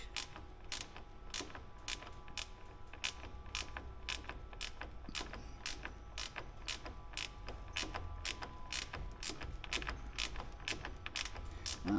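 A bolt being wrenched through a nylon lock nut on an aircraft fuselage part produces evenly spaced, crisp ratcheting clicks, about one a second, over a quiet close background.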